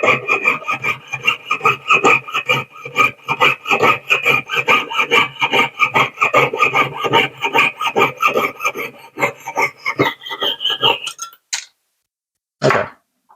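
Hand file rasping a metal prong toward a faceted gemstone during stone setting, a loud, rapid run of steady scraping strokes for about ten seconds, then a few isolated scrapes before silence.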